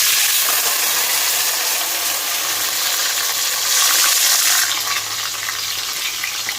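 Spice paste hitting hot oil in a pan while cooking paneer, giving a loud, continuous hissing sizzle that swells briefly midway and keeps up with no talking over it.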